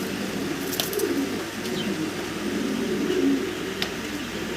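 Large, giant-sized pigeons on a pigeon farm coo in low, throaty, repeated phrases, close and fairly loud over a faint background hum.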